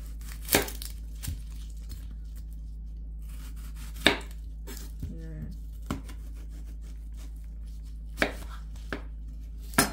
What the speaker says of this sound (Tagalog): Tapos, yung ating onion, ikakat natin.